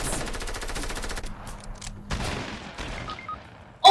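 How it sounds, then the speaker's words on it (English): Video game gunfire, with a rapid automatic burst at first, then scattered shots and crackling echoes, ending in a sudden loud blast. "Whoa, getting shot at."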